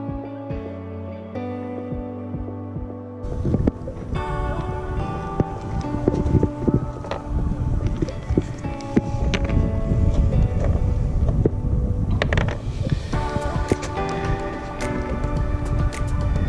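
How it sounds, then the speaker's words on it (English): Strong outdoor wind buffets the microphone at a fishing spot with a loud, uneven rush and roar. Brief tonal sounds come first, and then the gusts carry on with no break. "It's just so windy."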